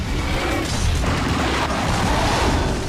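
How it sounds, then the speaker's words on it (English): Gravios in Monster Hunter Freedom Unite unleashes huge fire explosions, a loud, dense, continuous roar of booming blasts that fills the whole stretch without any talk. "Oh, those huge fire explosions, terrible."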